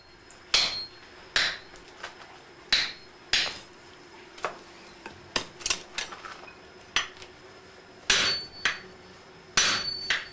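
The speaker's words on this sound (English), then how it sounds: "stage is now set for the smith to sever the steel from its tekogane handle" A Japanese swordsmith strikes hot steel to sever it from its tekogane handle, sending a dozen or so sharp, ringing hammer blows in an uneven rhythm, close and clear with no talk.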